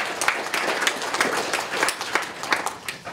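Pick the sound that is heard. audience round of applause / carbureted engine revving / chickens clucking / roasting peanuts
audience round of applause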